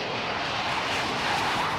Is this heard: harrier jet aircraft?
yes